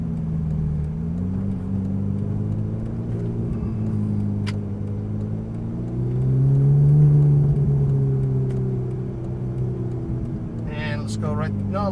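A Ferrari 458 Italia engine hums steadily throughout, swelling briefly as it revs a little louder midway, with a voice speaking over the motor.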